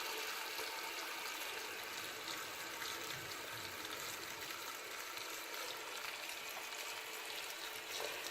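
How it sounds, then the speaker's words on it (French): Water pours steadily into a cooking pot of couscous, a continuous faint rushing splash with no break or change across the whole stretch. "Après, vous remplissez d'eau à hauteur."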